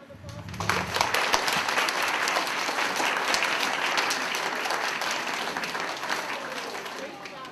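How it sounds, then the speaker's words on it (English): A crowd of students and staff applauds at a middle school character awards assembly, a full burst of clapping that builds within the first second and carries on steadily, close and loud, before slowly thinning out. "Can we give them one round of applause?"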